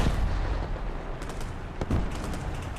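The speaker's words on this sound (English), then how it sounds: "The enemy is preparing for artillery barrage." Artillery barrage in a vehicle combat video game: dense, continuous rumbling blasts with several sharper booms standing out, loud and sustained throughout without speech.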